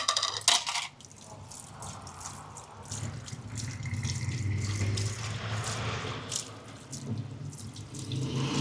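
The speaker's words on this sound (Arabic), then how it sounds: "يا عين على الجلي" Dishes are washed under a running tap at a sink in a falafel and hummus shop, water gushing steadily with sharp clinks of crockery near the start and scattered knocks throughout, no voices.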